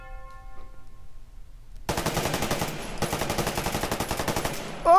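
A PP-19 Bizon submachine gun fires in a VR shooting game. The rapid automatic burst starts abruptly after a quiet moment and runs on in a long, loud, continuous stream of shots.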